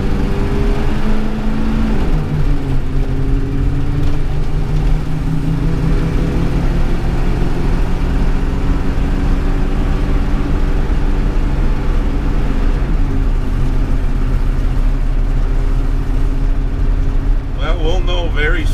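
Car engine held under load as the throttle is pushed down, a steady loud drone with low harmonic bands that shift pitch as revs change, continuous through the clip with a brief rise near the end.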